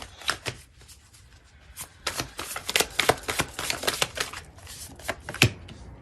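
Tarot cards being shuffled and drawn, with rapid bursts of crisp, close riffling and flicking that come in uneven clusters, and no voices.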